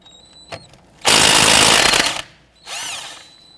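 A power tool rattles in a loud burst to loosen a 19mm caliper bracket bolt on the front steering knuckle of a 2006-2014 Honda Ridgeline. A short click comes first, then one sustained impact burst and a second, shorter whir after a pause.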